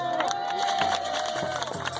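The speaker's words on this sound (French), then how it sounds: "Je vous demande d'applaudir bien fort" A crowd at a street rally in Strasbourg claps and cheers in a dense, steady burst at moderate distance, with faint voices mixed in.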